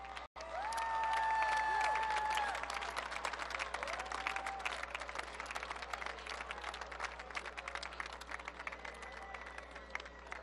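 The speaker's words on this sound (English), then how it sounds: "please stand to receive a well-deserved round of applause." A high school graduation audience applauds pioneer freshmen, a broad crowd of clapping with some cheering that swells loud early then settles into steady, slightly softer applause, with faint voices mixed in.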